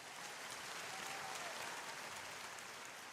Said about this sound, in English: Can I have some applause on that?